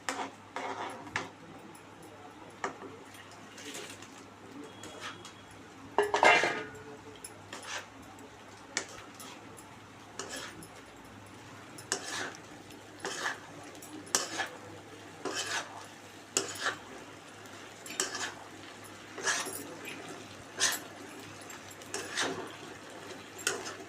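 Cabbage manchurian being stirred and roasted in a pan with a spoon, repeated scraping clinks against the pan at an uneven rhythm over a low steady background hum.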